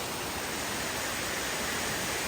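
Engkanto Falls in Bicol pours in a steady, broadband roar of rushing water, close and unbroken with no voices.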